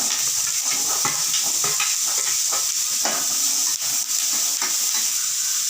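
Onions, carrot, chilies and chickpeas sautéing in a pan, with a continuous sizzle and frequent stirring scrapes close by, no voices.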